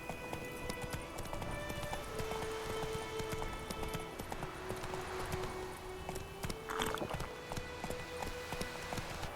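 Hoofbeats of the horse Roach in The Witcher 3 drum steadily through a long stretch of gameplay audio, a quiet rhythmic gallop with faint background sounds and a brief swell near the middle.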